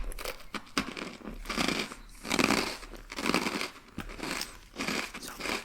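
Crunchy bites and chewing of croutons in a chicken Caesar salad, several bursts of crisp crackling spaced a second or so apart, close up and fairly loud.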